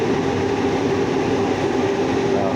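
A Valley Metro streetcar in Tempe runs along its line, making a steady, continuous rumble and hum from inside the car with no pauses or voices.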